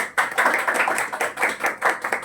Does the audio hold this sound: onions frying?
no